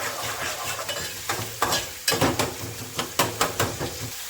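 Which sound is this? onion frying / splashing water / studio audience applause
onion frying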